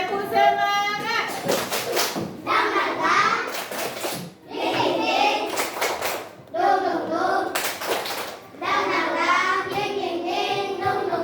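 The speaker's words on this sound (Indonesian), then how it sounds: "Tepuk semangat." A classroom of Indonesian schoolchildren performs a rhythmic spirit clap. Bursts of group clapping alternate with loud chanted voices, separated by brief pauses, close and lively.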